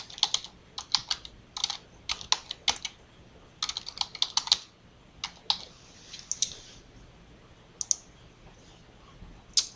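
Search words typed on a computer keyboard, close clicking keystrokes in quick bursts with short pauses between, no talking.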